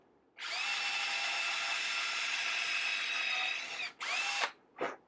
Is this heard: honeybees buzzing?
no